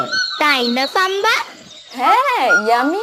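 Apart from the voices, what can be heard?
birds singing in a cartoon village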